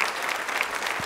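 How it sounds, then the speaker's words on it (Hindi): Brief burst of audience applause at a women's association event, steady and dense throughout the short moment. "उनके सम्मान में भी जोरदार तालियां बजाइए"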